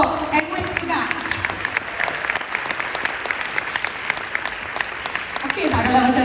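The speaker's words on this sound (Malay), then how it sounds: "Satu tepukan untuk Amway juga." An audience at a business recognition event gives a sustained round of applause for Amway, a thick continuous patter of clapping that swells slightly at the end as a voice starts speaking over it.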